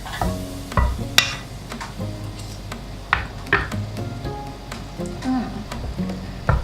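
Chicken larb gai, a spicy Northeastern Thai salad, being stirred and mixed, with soft scraping and wet tossing strokes coming in intermittent bursts, close by with no talking.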